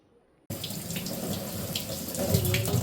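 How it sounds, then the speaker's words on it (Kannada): Tap water starts abruptly after a brief near-silence and pours steadily into a sink while leafy greens are washed, a loud continuous splashing rush that grows slightly fuller toward the end. "ಸೊಪ್ಪನ್ನು ಒಳ್ಳೆಯದಾಗಿ ತೊಳಿಬೇಕು ಅಲ್ವಾ"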